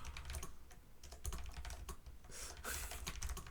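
Steady, fairly quiet typing on a computer keyboard, a continuous patter of key clicks with a few heavier strokes and no voices.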